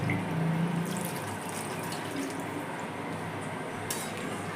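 Water poured into a pan of chicken tadka curry, a steady splashing, gurgling pour close by that holds for several seconds, with a faint clink near the end.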